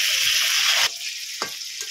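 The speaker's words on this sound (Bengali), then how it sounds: "এটাকে ভেজে নেব।" Pointed gourd (potol) seasoned with salt and turmeric sizzles loudly in hot oil for under a second, then cuts off sharply, leaving quiet room tone with a couple of faint clinks.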